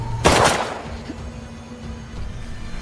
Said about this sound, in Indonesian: tembakan Raymond tidaklah fatal karena hanya seperti luka sayatan